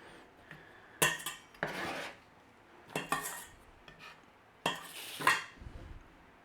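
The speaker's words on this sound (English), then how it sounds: "So a nice little mashing on the garlic. And a nice little run over with a knife." Garlic being mashed and run over with a kitchen knife on a board while making a one-pot beef and barley soup, heard as a few loud scraping, pressing bursts separated by short pauses, close up with no talking.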